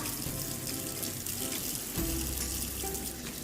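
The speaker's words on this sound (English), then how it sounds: "Before eating, you must wash our hands with soap." A tap runs steadily into a sink during handwashing with soap, giving a continuous close splashing rush with a slight shift partway through and no talking.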